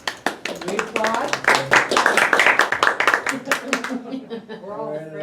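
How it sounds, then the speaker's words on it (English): A small workshop audience claps briefly in scattered, uneven bursts, close by, while people talk over and around the applause. "We applaud."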